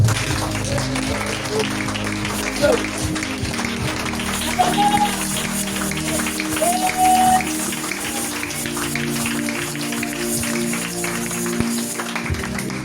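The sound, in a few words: congregation applauding in church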